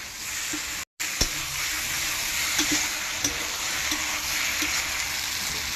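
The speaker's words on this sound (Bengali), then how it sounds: "এখন কষে নেবো তাই তো এটা পুরো ভর্তা হয়ে থাকবে ভর্তা ফ্রাই ও ঠিক আছে" Mashed potato bharta frying in a pan, a steady close sizzle and hiss with light stirring taps and scrapes and a short break near the start, no voices.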